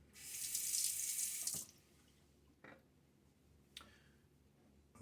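A tap runs briefly and water splashes onto a face during a wet shave, a bright rushing burst for about a second and a half, then a few faint drips and light handling noises in a quiet room.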